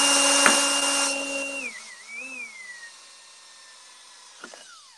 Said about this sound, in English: So I drill a guide hole.